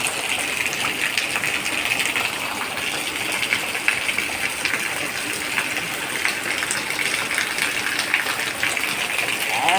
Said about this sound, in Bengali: এত জল পড়ছে।